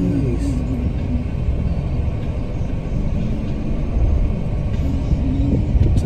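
An automatic-transmission car accelerates during a driving lesson, a loud, steady low engine and road rumble heard from inside the cabin.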